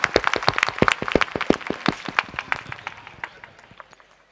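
An audience at a school speech event gives a short burst of scattered hand clapping that starts strong and thins out over a few seconds.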